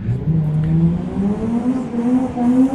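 A BMW E46 drift car at an Indonesian drift series qualifying round revs hard, its engine note climbing steadily and loudly throughout.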